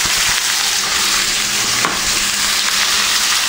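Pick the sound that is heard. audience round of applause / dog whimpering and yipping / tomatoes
tomatoes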